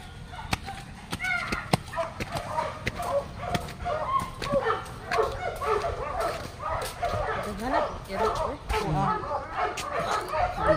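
Several dogs bark repeatedly outdoors, sharp yapping barks and whimpers overlapping in irregular bursts at close to middling distance while a person talks throughout.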